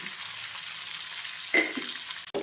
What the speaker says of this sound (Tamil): 2 நிமிஷம் வதக்கலாங்க